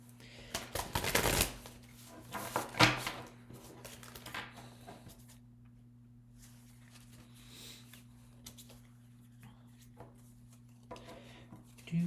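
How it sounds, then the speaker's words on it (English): Tarot-style reading cards riffled and bridged in a couple of crisp bursts near the start, followed by quieter handling rustles and soft taps against a steady low hum. "let me try and shuffle this properly."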